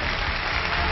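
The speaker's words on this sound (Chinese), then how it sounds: "掌声请出这对嘉宾" Studio audience on a Chinese relationship-mediation TV show applauds to welcome a formerly married couple onto the stage, a dense, steady wash of clapping filling the whole moment with no voices.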